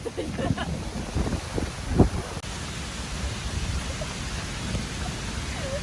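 Strong, blustery wind roars in a storm in the Jura, a broad rushing noise with a few gusty bursts and thumps of buffeting near the start.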